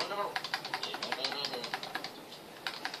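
Computer keyboard keys are tapped quickly in an uneven run of crisp clicks while a game of Crossy Road is played on a PC. The clicks are close and clear, and faint speech can be heard in the background.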